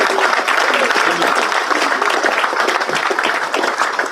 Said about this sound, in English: How about another round of applause for our honorees?